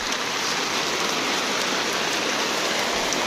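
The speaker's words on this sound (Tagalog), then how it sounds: "Gusto niya maligo sa ulan." Steady rain falls continuously and fairly loudly, a dense even hiss of drops pattering on surfaces, with no voices over it.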